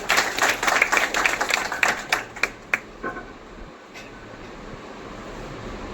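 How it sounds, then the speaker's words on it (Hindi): An audience applauds at a wellness business testimonial event in Nagpur, a burst of dense clapping that thins to scattered claps and dies away midway, leaving a quiet room. "इनके लिए जोरदार तालियां दें"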